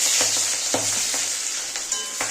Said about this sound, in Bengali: দেখো রসুন পেঁয়াজগুলো ভাজা হয়ে গেছে